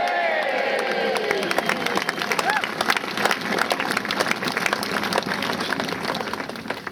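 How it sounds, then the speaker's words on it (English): A crowd at an outdoor evening ceremony on Mersea Island applauds and cheers, with dense, continuous clapping that carries on steadily at a moderate distance. "I think he deserves a cheer."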